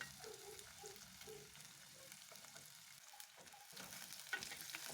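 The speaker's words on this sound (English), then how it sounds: "So in my pot I have our oil, and adding the onion and stir it a little." Chopped onion frying in hot oil in a cooking pot for a fish stew, a soft steady sizzle with occasional scraping stirs, close and fairly quiet, no talking.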